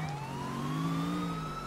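A police siren in GTA IV wails nearby, its pitch sliding slowly upward over a low engine rumble, loud and continuous.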